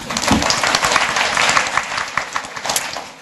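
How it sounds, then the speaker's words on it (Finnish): An audience at a panel discussion on cultural views of mental health breaks into applause, a full, loud patter of many hands that stays steady throughout. "Aplodit sille."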